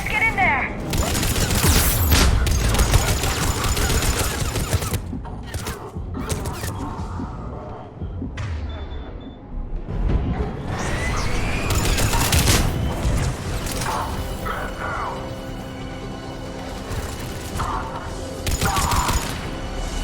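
Gunfire in the sci-fi shooter game Mass Effect 3: dense bursts of weapon fire and booming impacts come in waves, loud and close, separated by brief quieter gaps.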